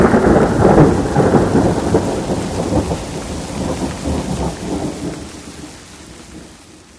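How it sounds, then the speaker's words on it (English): Heavy thunderstorm with a long roll of thunder over steady rain, loud and rumbling at first, then slowly fading while the rain continues. "The thunderstorm continued to roll."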